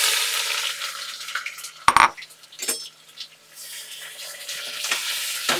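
Onions frying with dry chilies and whole garam masala for a Bengali mutton curry, a steady close sizzle broken by a sharp clatter of stirring near the two-second mark and a few softer scrapes.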